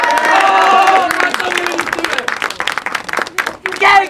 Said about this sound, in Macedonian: ајде аплауз за Атама Гейминг